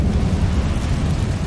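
Incendio fire spell cast in the Hogwarts Legacy video game, a loud, dense whooshing roar of flame that holds steady for a brief moment.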